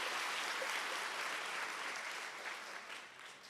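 A jazz concert crowd in Gimhae keeps applauding a newly introduced tenor saxophonist, a thick, sustained patter of many hands that gradually thins and softens toward the close.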